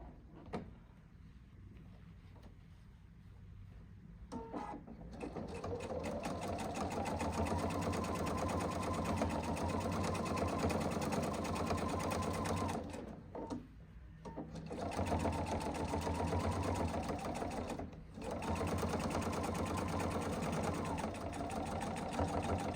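A sewing machine stitches quilt binding with a quarter-inch seam, running steadily and close for long stretches, with a few brief pauses between runs.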